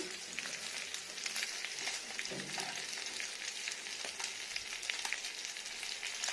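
Tilapia-type fish frying hard in hot oil over high heat, a steady dense sizzle with crackling pops running throughout, close and fairly loud with no talk.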